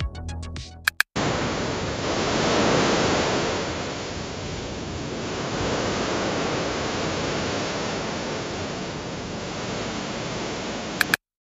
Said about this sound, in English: The prompt I used was waves crashing at the beach.